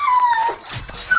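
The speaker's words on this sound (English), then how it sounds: "Watch this dog, look." A dog in a video game gives a short high whimper followed by a soft yip, heard close and clear with no talking over it.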